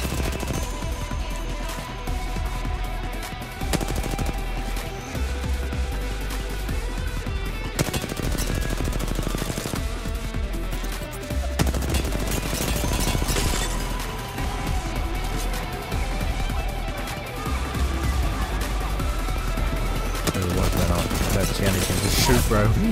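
Rapid automatic gunfire and bursts of shots fill a match of the video game Apex Legends, loud and nearly continuous with game effects underneath, and players talk over the action.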